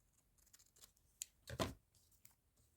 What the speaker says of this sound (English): I'm going to snip tops of these as well